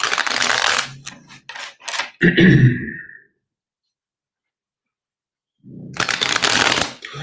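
Tarot cards shuffled by hand: two bursts of papery riffling and slapping, the first about three seconds long, then a silent pause before another close, brisk round of shuffling.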